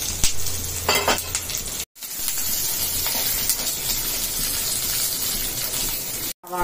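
Peanuts frying in a pan for chutney, a steady close sizzle with scraping and clinking of a utensil against the pan, running continuously with two brief gaps.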